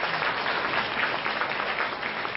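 Steady applause from a large school event audience, a dense wash of many hands clapping at once, loud and close, running unbroken without speech.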